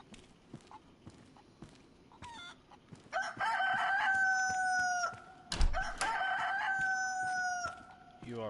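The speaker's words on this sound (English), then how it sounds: "I hear a chicken" A rooster crows twice inside the game DayZ, long drawn-out calls at moderate distance with a brief pause between them, preceded by softer clucks and scattered footstep-like knocks.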